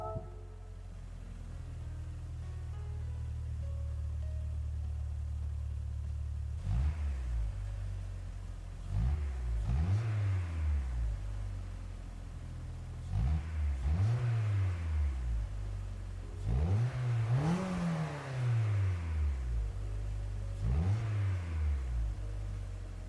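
A 1993 Renault Twingo engine in Gran Turismo 7 idling, then revved repeatedly in short rising and falling bursts, about five clear revs, loud and close with no talking.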